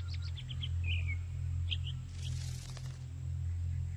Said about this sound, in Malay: Tuan dengar bunyi burung tu.